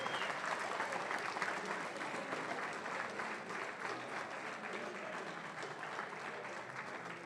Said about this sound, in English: how impressive it was for the parents to clap all the way through for every single student